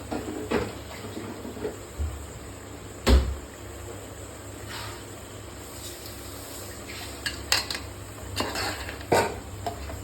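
Pepper chicken masala with country chicken is stirred in a pan, with soft scraping and occasional sharp clinks of the spoon against the metal over a faint sizzle and low background hum.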